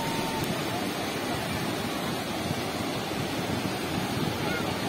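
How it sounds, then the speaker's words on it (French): Heavy surf from big ocean waves breaking at Imsouane, Morocco, a continuous broadband roar of rushing water and wind that stays steady and loud throughout with no distinct individual breaks. "ils ont pu essayer le surf sur des grosses vagues"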